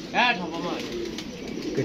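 Pigeons coo from a rooftop loft after a new bird was released and flown, a soft burst of calls up close with people talking over and after them.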